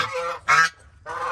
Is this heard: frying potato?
no